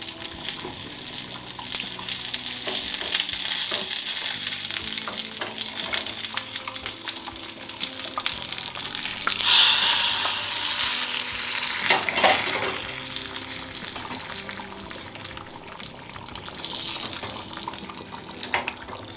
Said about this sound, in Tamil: இப்போ கடுகு ஆட் பண்ணுவோம்